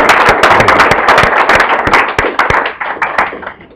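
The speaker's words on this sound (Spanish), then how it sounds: "Le brindamos un fuerte aplauso, por favor, a nuestro invitado" Applause for a guest speaker at a talk on control taxes in recession and economic crisis: dense, loud clapping from an audience with sharp individual claps standing out, slowly thinning toward the end.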